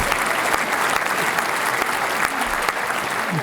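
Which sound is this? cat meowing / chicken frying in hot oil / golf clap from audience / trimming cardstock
golf clap from audience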